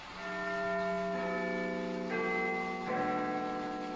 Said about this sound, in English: The bell struck once again.